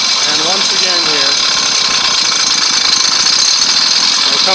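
A carbureted engine fitted with a boost bottle runs steadily on a very lean carburetor setting with no throttle input, a loud, dense, continuous mechanical drone with rattling texture throughout, close to the microphone.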